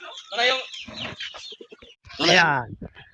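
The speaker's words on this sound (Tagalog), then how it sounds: "Ang daming manok." Chickens cluck loudly nearby in repeated throaty bursts, one call rising into a longer squawk, with softer clucks in between.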